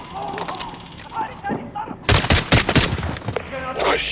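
Gunfire in Call of Duty Modern Warfare, a rapid loud burst of shots in the second half after quieter moments, with game voices talking around it.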